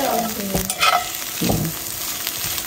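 Potatoes sizzle loudly in a pan while being stirred, with a continuous close fry hiss broken by scraping strokes of the utensil.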